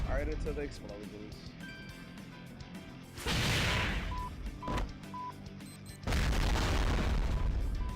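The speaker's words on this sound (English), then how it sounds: "Right into the explosions." Two loud booming blasts in the video game Closers over game sound effects and background tones, each a sudden roar that lingers a few seconds.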